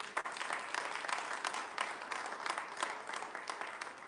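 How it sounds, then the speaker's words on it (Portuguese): Congregation at Rebuilding Life church clapping for Jesus during a worship service, a steady wash of many hands with scattered sharper claps throughout, moderately distant and without speech over it. "Uma salva de palmas para Jesus"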